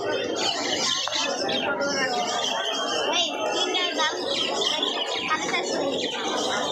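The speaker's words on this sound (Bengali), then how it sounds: "মানে দেখেন পাখি আর পাখি, চারদিকে পাখি।" Many birds, diamond doves among them, fill a crowded bird market in Mirpur-1 with constant chirping and chatter, heard over steady crowd noise and talking.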